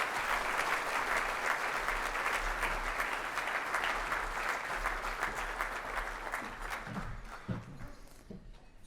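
A conservation organization's annual meeting audience applauds in a dense, sustained burst that gradually thins out and fades toward the end, with a few scattered last claps.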